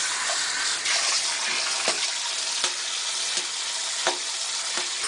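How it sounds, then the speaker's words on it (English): A pond filter sponge wrung out under water: steady splashing and sloshing with repeated squelching squeezes at a regular rhythm, close and fairly loud, no voices. "all you need to do is wring them out under some water like you would a washcloth"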